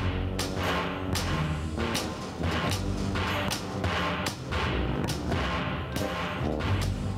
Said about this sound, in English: Stop that banging!